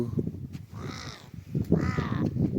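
Crows caw twice, harsh and fairly close, on a cloud-covered mountain trek at Triund, with faint wind and ambient rustle between the calls.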